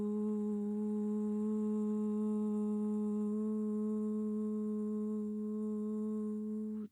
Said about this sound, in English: The sound that we're going to talk about today is the 396 hertz, and it sounds like this.